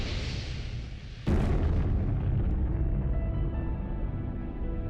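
A dramatised explosion of an impact forming a crater on the Moon's near side: a sudden loud boom over a low rumble, then a heavy roar that slowly fades.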